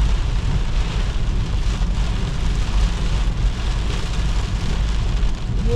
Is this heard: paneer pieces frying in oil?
no